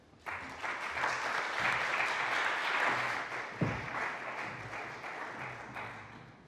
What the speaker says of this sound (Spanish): les voy a pedir un aplauso de bienvenida